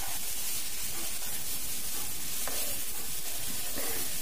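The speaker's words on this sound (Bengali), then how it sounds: "চালটা দিয়ে সবজির সঙ্গে 2-3 মিনিট একটু ভেজে নিচ্ছি" Gobindobhog rice frying with vegetables in a pan makes a loud, continuous close-up sizzle with a dense hiss, with occasional faint stirring scrapes and no voices.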